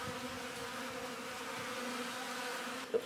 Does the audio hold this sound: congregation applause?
no